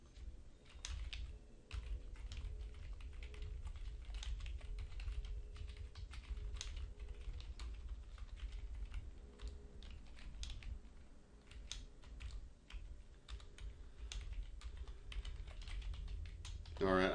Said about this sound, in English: I'm not going to bore you with typing in a whole bunch of information here